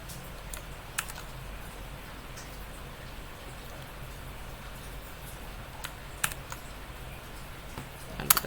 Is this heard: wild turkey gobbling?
no